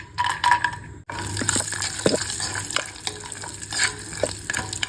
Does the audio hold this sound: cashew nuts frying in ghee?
yes